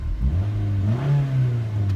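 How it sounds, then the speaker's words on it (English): An old car engine revving once, a close mid-pitched roar that climbs and holds briefly before easing off, alone without talk. "the two good things is it goes beep beep and vroom vroom"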